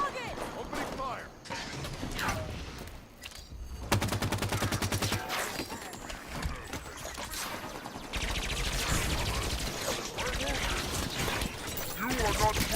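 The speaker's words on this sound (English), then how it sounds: "Opening fire." Gunfire in the Halo video game: bursts of automatic weapon fire and rapid shots fill most of the stretch, loud and dense, with a brief quieter gap and some clattering mechanisms, while voices talk over it.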